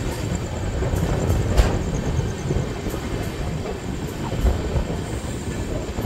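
Inside a general coach of the 12343 Darjeeling Mail out of Sealdah, a continuous rumble of the moving train with periodic wheel clacks and faint squeals, and no clear talk.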